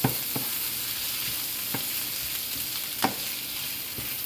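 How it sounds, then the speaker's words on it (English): Chicken and vegetables sizzle steadily in a hot pan on a flame grill while they are stirred, with a few sharp scraping strokes cutting through the constant frying hiss. "Just get that in there, stir it around."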